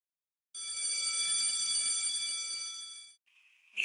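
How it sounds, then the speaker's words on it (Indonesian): A school break bell rings continuously for about two and a half seconds, a loud, bright electric ringing with steady high tones, then cuts off, followed by a brief softer tone and a sharp noise at the end. "Bel istirahat berbunyi."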